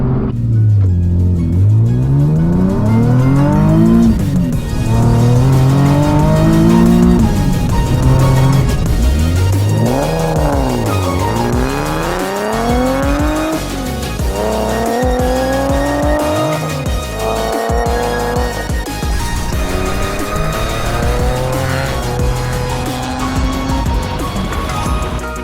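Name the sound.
tuned car accelerating hard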